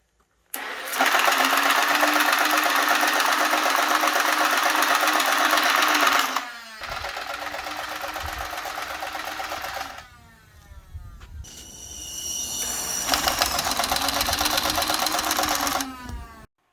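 A homemade automatic toy turret fires in three long, loud bursts of close whirring, rattling motor noise, with short pauses between them.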